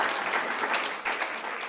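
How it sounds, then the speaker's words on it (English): Applause from a community forum audience on local recycling, a steady wash of clapping heard at moderate distance for the whole short stretch, with no speech over it. "please applause right now for him"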